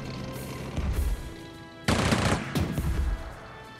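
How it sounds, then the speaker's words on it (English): Bursts of automatic gunfire in the war strategy video game Strategic Mind: Spectre of Communism, two rapid volleys separated by a short pause, loud and alone. "Opening fire!"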